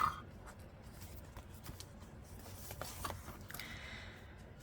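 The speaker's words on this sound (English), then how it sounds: "So I'm just flipping through to make sure the pages are in the correct space." Paper pages of a handmade junk journal are flipped and shuffled up close, soft papery rustles and light flicks in an irregular rhythm, quiet with no talking.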